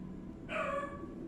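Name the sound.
person imitating a dog barking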